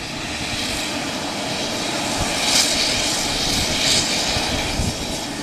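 A jet aircraft engine roars steadily at a municipal airport. The broad rumble and hiss are loud and continuous, with slight swells, and no voice is heard.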